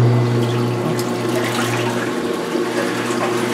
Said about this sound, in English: then let spin out the water.